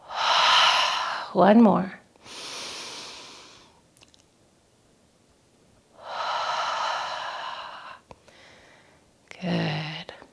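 Slow, deep breaths during a moon salutation yoga practice come as long airy inhales and exhales, with a few sharp sniffing gasps between them. They are close and fairly soft, and a voice speaks briefly.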